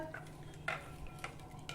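Kol pohe, flattened rice soaked in coconut milk in the Konkan style, being stirred in a bowl with a spoon, giving soft wet scrapes and a few light clinks close by, with no talking.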